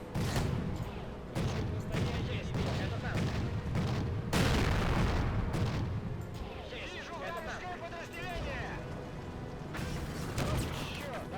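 Artillery shells fire and land in a World War II tank video game, with repeated booms and crackling gunfire scattered through a busy battle while people talk over it.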